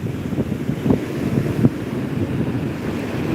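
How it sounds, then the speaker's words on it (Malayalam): Rough, blustery wind roars steadily with rough surf surging beneath it on a beach at Vettukad, a couple of brief thumps standing out; no voices. "വല്ലാത്ത തിരമാലയാണ് കടലാകെ കോപിച്ചിരിക്കുകയാണ്"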